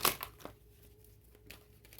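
A deck of tarot cards is shuffled by hand. It opens with a crisp riffle, then soft, faint ticks and rustles follow, close up, with no voices.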